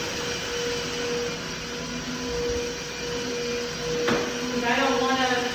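A Tineco iFLOOR 3 Breeze wet dry vacuum runs on hardwood floors with a steady, close whirring drone that holds evenly throughout, rising slightly near the end.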